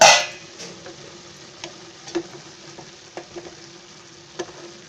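Shevaiya upma cooking in a covered pan, a soft low sizzle with scattered faint pops and ticks, opening on a brief loud clatter, then quiet and steady with no voices.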